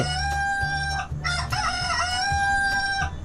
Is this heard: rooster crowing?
yes